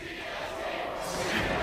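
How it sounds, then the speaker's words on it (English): Sports fans cheer in an arena, a steady wash of crowd noise that swells louder toward the end, with no clear speech on top. "They really need to hear you guys cheering for them"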